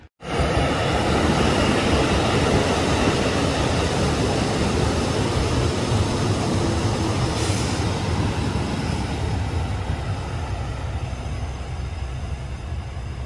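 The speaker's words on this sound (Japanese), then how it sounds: "なんか偶然にもすごい列車やってきましたね。 あのレールとか運搬する車両ですよね、これ。" A loud, steady rumble of a heavy rail-transport train arriving close by at Kogota Station on the Ishinomaki Line in Japan, continuous for the whole stretch with a broad roar and no voices.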